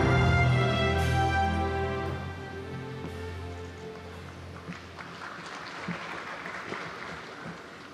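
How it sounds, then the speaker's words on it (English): Sustained musical tones fade out, then an audience gathered for an Olympic event in Gangneung begins applauding to welcome the Pyeongchang Olympic organizing committee president, the clapping faint and gradually swelling toward the end. "여러분 큰 박수로 맞이해 주십시오"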